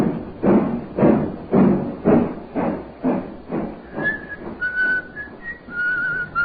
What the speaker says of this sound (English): He's whistling merrily